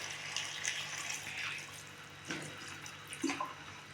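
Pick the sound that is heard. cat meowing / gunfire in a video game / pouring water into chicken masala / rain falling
pouring water into chicken masala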